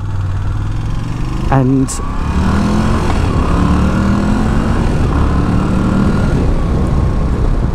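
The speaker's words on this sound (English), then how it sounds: "Talking of the exhaust, this has the standard exhaust pipe fitted, I believe, and it sounds okay" A Moto Guzzi V85TT Travel motorcycle with its standard exhaust runs steadily near the listener, a continuous engine drone with a brief rise in pitch partway through, while someone talks over it.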